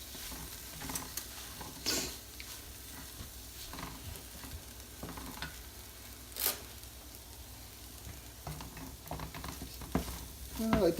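Orzo pasta frying in oil in a pan, a steady low sizzle and crackle with a few sharper stirring scrapes and clinks, close and fairly quiet.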